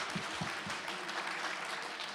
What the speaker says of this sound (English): give yourselves a round of applause just for showing up